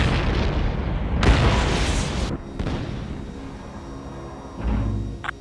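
Explosion of a destroyed enemy aircraft in the Ace Combat: Assault Horizon AC-130 gunship mission: a loud burst and rumble, then a smaller second blast and a later dull thud amid steady engine drone.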